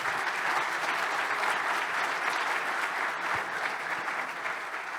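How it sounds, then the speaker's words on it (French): Audience applauds panelists standing at an opening panel on digital impact in rural development: an even, sustained roar of clapping across the room, with no talk. "On va les applaudir"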